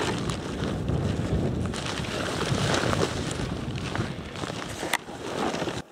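Wind blows steadily outdoors on a hiking trek, a continuous broadband rush with gusty swells and brief buffeting against the microphone, alone without talk.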